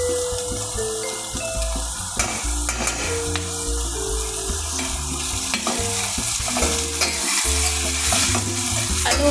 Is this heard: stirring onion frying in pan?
yes